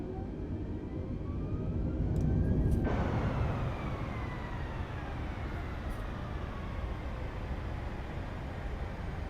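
A jet airliner taxiing in Microsoft Flight Simulator 2020, a steady broadband engine rumble and hiss that swells briefly then settles into a constant drone with faint rising whine tones throughout.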